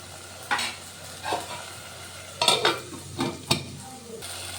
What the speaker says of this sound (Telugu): మెత్తగా ఉడికేదాకా ఒక్క 5 మినిట్స్ కలిపేసుకుందాం